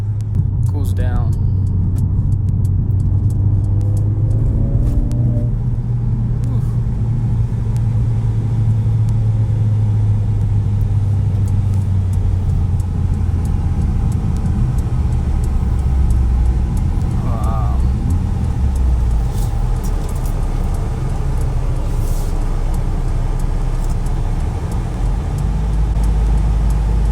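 A 2020 Mercedes-AMG CLA 45 Coupe engine drones steadily throughout while driving, a deep sustained rumble with slight rises in pitch. A voice is heard over it early on.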